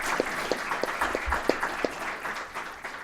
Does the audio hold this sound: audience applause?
yes